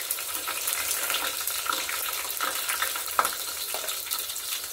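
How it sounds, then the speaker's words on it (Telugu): Shallots and dried red chilies fry in hot oil, giving a continuous soft sizzle and crackle, close and fairly quiet, with a small sharp pop near the end. "ఇవి కొంచెం నూనెలో వేగాలండి. నూనెలో వేగిస్తే బాగుంటుంది."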